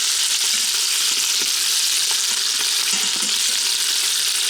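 Beer brats sizzle steadily on the saute setting of an Instant Pot, with a dense, even hiss of frying fat and small scattered pops throughout, close and continuous.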